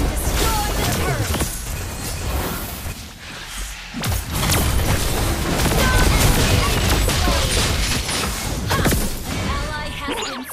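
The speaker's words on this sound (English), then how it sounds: "Your team destroyed the turret." A turret is destroyed amid a busy mobile battle game match, with dense bursts of explosions, impacts and weapon fire layered over game sound, while an announcer voice speaks.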